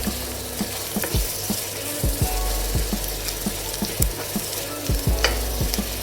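Ginger stirred into a frying Kerala chicken curry base, steady oil sizzle close up with a spoon scraping and clacking against the pan in irregular strokes.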